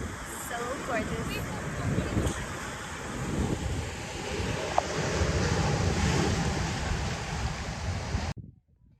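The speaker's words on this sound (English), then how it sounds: "Enjoying the waves." Surf rolls continuously against the Acadia National Park shoreline, a steady roar of waves with gusty wind noise on the microphone and faint voices underneath, ending in a sudden cut to silence.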